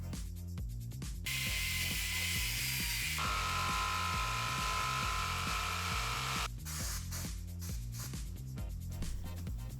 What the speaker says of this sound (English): With the table saw, I cut the remaining necessary pieces.